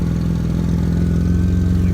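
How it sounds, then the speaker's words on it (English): A car with well over 200,000 miles and a loud stock exhaust runs at a steady idle, a continuous low rumble that sounds close and unchanging for about two seconds, with no talking over it. "You kind of hear the loud exhaust it's got."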